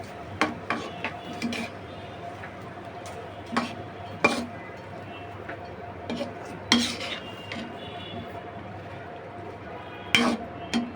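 Beef tehari being stirred in a cooking pot on a gas stove: a spoon scrapes and clinks against the metal in scattered, fairly faint knocks over a low steady background hum.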